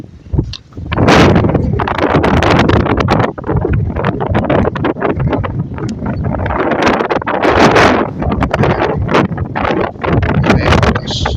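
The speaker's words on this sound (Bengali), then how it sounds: "অনেক বাতাস, মনে করেন আমার একবারে ফালাই দিতেছে এমন বাতাস।" Strong, gusty wind buffets an outdoor spot by a bridge over water under cloudy, drizzly skies, a loud continuous roar with rustling bursts and no speech.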